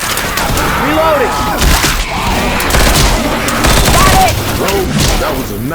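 Heavy gunfire in a shooter video game, dense overlapping shots and booms throughout, with players shouting over the loud barrage.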